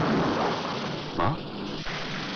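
Steady rain falls in a continuous broadband hiss, loud and close, with a few faint swells and no talking.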